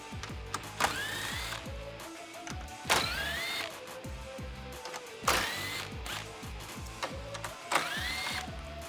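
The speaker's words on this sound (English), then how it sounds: "remove the 4 10mm bolts along the top of the grill" Rapid ratcheting and whirring of a ratchet loosening 10mm bolts along the top of a 2015-2017 Ford F-150 grille, in several bursts with short pauses between, close up and fairly loud.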